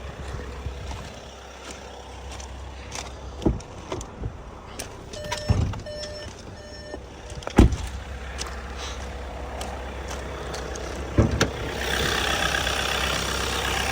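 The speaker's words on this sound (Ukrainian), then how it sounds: "Двигун працює гарно, він теплий в нормі." A warm 2021 Skoda Superb Scout 4x4 engine idles with a steady low rumble, broken by occasional clicks and knocks from handling nearby.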